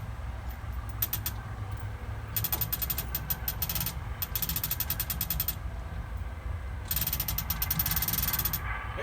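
A wrench ratchets against a nut on a leaking hydraulic cylinder of a John Deere 855 tractor, giving repeated bursts of quick metallic clicks separated by short pauses, close and steady, with no talking.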